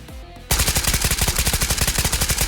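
An AK5C rifle in the video game Ghost of Tabor fires a fast, even automatic burst of loud, close shots after a brief quiet lead-in.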